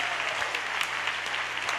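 A church congregation claps in dense, steady applause that fills the room evenly for the whole short stretch, with no other sound rising above it.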